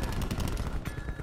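Rapid gunshots from the Annihilator revolver in the video game Black Ops 4, a quick series of punchy shots in close succession with no talk.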